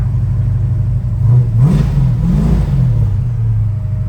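A 1970 Plymouth Barracuda with a 518 stroker V8 and six-pack fuel injection fires up and is revved, a loud, close, deep rumbling idle that swells through a couple of throttle blips before settling back.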